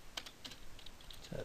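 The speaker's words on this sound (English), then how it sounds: "Type in fruit" Keys clack on a computer keyboard in a short burst of quick, uneven typing strokes, close and fairly quiet, with no talking.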